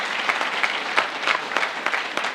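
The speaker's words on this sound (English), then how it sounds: "Give them a round of applause," An audience at a Virginia Beach Police Department promotion and retirement ceremony applauds the color guard, a dense continuous patter of many hands with scattered sharper claps standing out.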